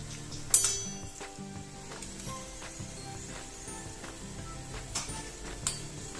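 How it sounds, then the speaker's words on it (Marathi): Green pea vadas fry in oil over high-to-medium flame, a soft, low sizzle with occasional light clinks of a utensil against the pan, fairly quiet and without talk. "हे वडे हाय टू मीडियम फ्लेमवरती तळायचे आहेत"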